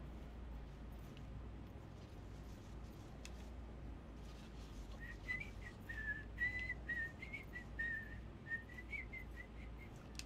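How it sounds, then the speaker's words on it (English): A person whistles a faint, wavering tune partway through, sitting under steady background noise and close-by fumbling sounds, with no speech. "I can whistle while I work."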